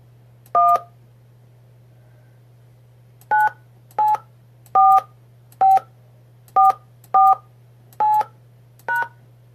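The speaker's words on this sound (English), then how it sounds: "Please enter your host PIN. When finished, press the pound key." Nine telephone keypad DTMF tones are pressed to enter a PIN, each a short clear beep at an uneven pace, heard over a faint steady line hum.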